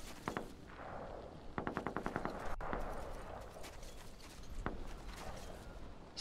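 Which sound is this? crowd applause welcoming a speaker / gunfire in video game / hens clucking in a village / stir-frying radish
gunfire in video game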